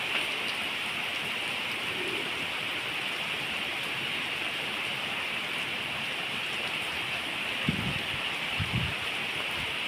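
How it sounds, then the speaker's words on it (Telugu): Heavy rain pours steadily in Hyderabad during summer, a dense continuous hiss of falling water close by, with a couple of brief low thumps near the end. "వాన మటుకి అదిరిపోతున్నది."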